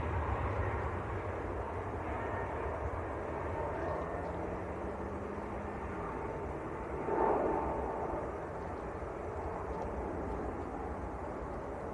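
A Boeing 737 Max airliner at Manchester Airport makes a faint, distant, continuous engine drone, with a soft tonal whine sliding down in pitch partway through.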